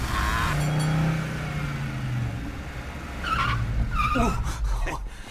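A car skids with its brakes locking and tires squealing, a sharp screech amid engine noise; brief voices are heard around it.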